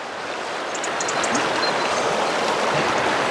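A mountain river rushes with a steady, loud broadband flow. Faint bird chirps are heard briefly above the water.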